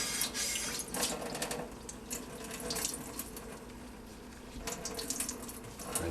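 A Brillo pad and a rust-covered cast iron skillet rinsed under a running tap, a continuous splashing stream of water with slight surges and scrubbing, close by and without speech.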